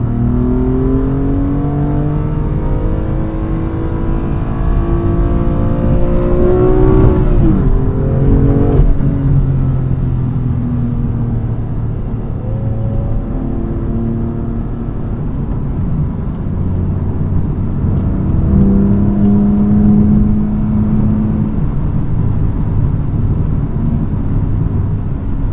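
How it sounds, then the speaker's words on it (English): BMW M2 engine pulling strongly while driving, loud sustained in-cabin drone with rising pitch sweeps, a shift dip partway through and another surge later. "it's crazy how this engine can pull so strong"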